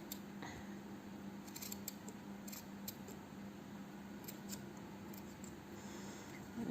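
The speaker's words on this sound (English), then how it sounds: "if you want to have them the same length, just give them a snip" Scissors snip the yarn strands of a tassel on a crocheted scarf, making a few quick, close metallic cuts and clicks scattered across a quiet room with no voices.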